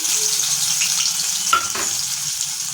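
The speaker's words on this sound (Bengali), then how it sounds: "তেলের মধ্যে দিয়ে দিচ্ছি পেঁয়াজ কুচি" Chopped onion hisses in hot oil, an even, close frying sizzle with a brief stirring scrape partway through.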